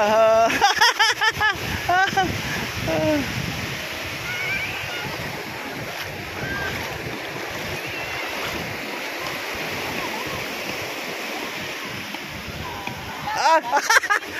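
Sea waves wash and splash along a shore with wind buffeting the microphone, a steady surf roar through the middle, while people talk and call out near the start and end.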